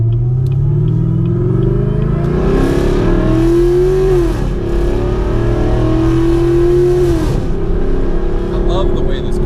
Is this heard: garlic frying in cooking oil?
no